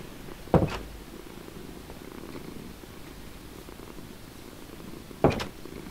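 A cat purrs in Minecraft, a soft, steady low purr that runs through the whole stretch, broken by two sharp, louder bursts near the start and end.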